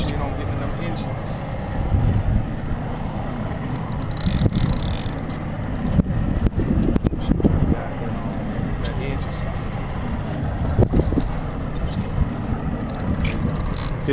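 Fishing boat engines run steadily at close range throughout, a low continuous drone with broadband wind and water noise, while people talk loudly over it.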